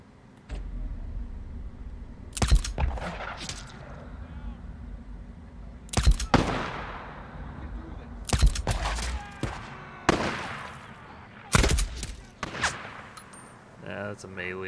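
Suppressed gunfire in the Days Gone video game: sharp, muffled shots fired singly and in short bursts with gaps between them, fairly close and loud over a low ambient bed.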